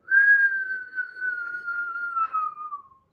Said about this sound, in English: I say, do it again with the whistle, and I plug my ears again.